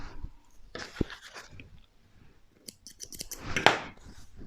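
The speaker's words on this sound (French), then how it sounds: "avec un ciseau cranteur, on va aller dégager les marges de couture" Pinking shears snip through fabric seam allowances on a sewn Christmas decoration, giving a few crisp close cutting crunches, with the loudest burst near the end and quieter handling sounds between.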